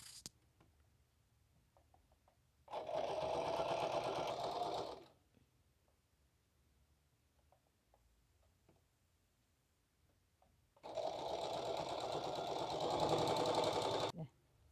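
A sewing machine stitches plain jeans fabric for a hat in two steady, whirring runs of about two and four seconds, separated by a quiet pause with faint handling noises.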